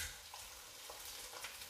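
Eggs frying in a pan for a keto menemen, a steady broadband sizzle with faint stirring scrapes, close and even throughout, no talking.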